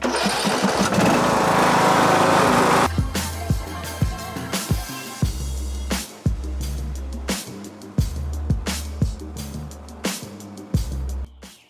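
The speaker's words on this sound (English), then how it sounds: "we just finished doing the back property. mowing it" A lawn mower cuts grass across an overgrown back property, starting as a steady loud drone, then breaking into a stop-and-go pattern with repeated revving surges and brief dips as it is pushed along nearby.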